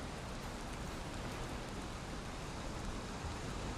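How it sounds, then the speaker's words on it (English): Steady rain falls in the Valheim video game, a faint, even hiss of broadband noise with no distinct drops or pauses across four seconds, with no voices. "Ah, and there you go. Rain."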